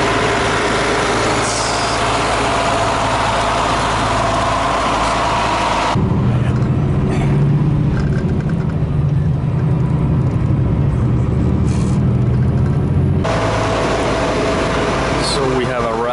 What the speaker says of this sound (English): This right here is the Tica bus station.